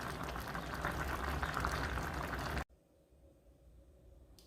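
Ratatouille simmering in a pot gives a steady, close bubbling burble for about two and a half seconds, then cuts abruptly to a much quieter low background hum.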